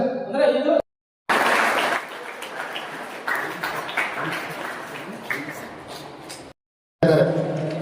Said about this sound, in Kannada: ಸರ್ವರಿಗೂ ಕೂಡ ಜೋರಾದ ಚಪ್ಪಾಳೆ ಹಾಕೋದ್ರ ಮುಖಾಂತರವಾಗಿ ಅವರಿಗೆ ಅಭಿನಂದನೆ